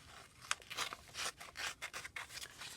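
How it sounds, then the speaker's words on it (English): Scissors snip through paper for a gluebook journal in a series of soft, close, irregular crisp cuts and rustles, faint and without talk. "I think I'm just going to cut it up here."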